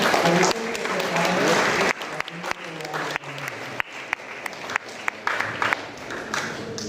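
Audience clapping in thanks at a Guadalupe shrine novena gathering in Bettiah, dense at first, then thinning into scattered individual claps with some voices beneath.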